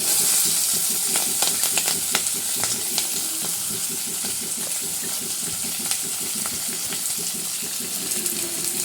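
Onions, green chillies and curry leaves sauté in a pan with a steady crackling sizzle and repeated rhythmic scraping of a spoon against the pan, close and alone.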